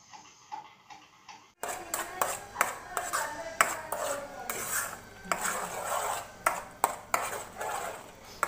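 Grated carrot and sugar being stirred in a pan, with repeated scraping and clinking of a utensil against the metal at an uneven rhythm, close by, after a brief quiet opening with faint talk.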